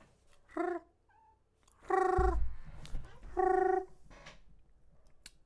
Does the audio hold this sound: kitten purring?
yes